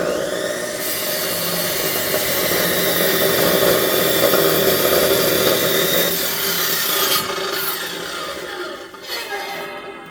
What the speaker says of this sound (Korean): 톱날을 완전히 세워 갖고 잘라야 됩니다.